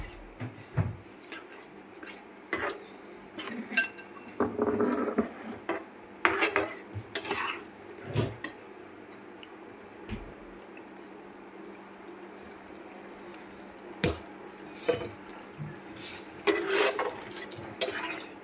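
Sour yogurt spooned into a pan and stirred, giving repeated metal clinks and scrapes of a utensil against the pan with soft wet squishing between, close and intermittent, with no talking.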